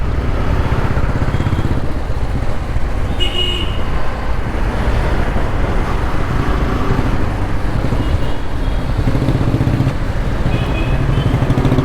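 Yamaha R15 V4 motorcycle with quick shifter and slipper clutch riding on the road, a loud steady engine drone and wind rush throughout with faint shifts in tone as gears change.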